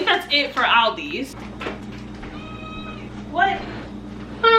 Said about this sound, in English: the cat better be quiet